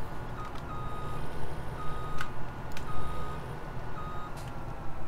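Reversing beeps from a Fendt tractor in the Farming Simulator 17 video game, sounding as a steady series of evenly spaced high tones over a loud rumbling engine.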